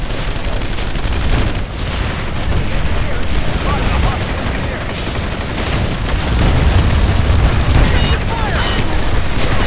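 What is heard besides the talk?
gunfire and explosions in Planetside 2 video game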